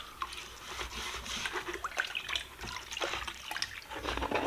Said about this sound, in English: one way would be to simply wash the bowl out